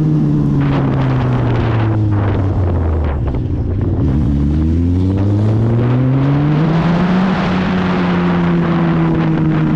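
A loud, continuous Suzuki SRAD 1000 sport motorcycle engine with a straight exhaust drones and revs, heard as from inside a helmet, its pitch dipping and climbing again, with steady wind rush over the whole stretch.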